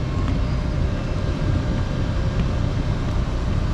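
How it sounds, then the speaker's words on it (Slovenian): Panama Canal locomotives hauling a ship through a lock, a steady low rumble of machinery and movement close by, with no clear individual events, continuous throughout. "Evo, to so pa vlakci, ki vlečejo ladjo."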